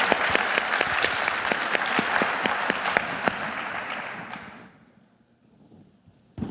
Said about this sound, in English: One more round of applause for both of these teams.